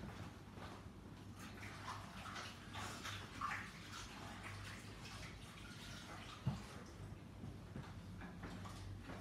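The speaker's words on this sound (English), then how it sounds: "just let me just go and wash my hands a moment" Tap water running in a home kitchen while hands are washed, a faint steady splashing wash with a soft knock partway through, no talking.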